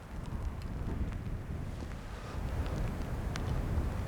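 Outdoor wind gusts on a wild, wet landscape photography outing buffet the microphone with a continuous low rumble that swells slightly louder toward the end, with no voices.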